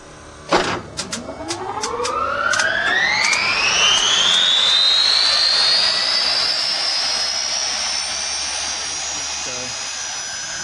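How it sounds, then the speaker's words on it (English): A turboshaft gas turbine jet engine is cranked and lit: a burst of rapid igniter clicks, then a whine that climbs steadily in pitch into a loud, sustained turbine roar that holds to the end. "I'll crank the engine now. You'll hear the igniter sparking. Then I'm going to roll the fuel on and you'll hear it light."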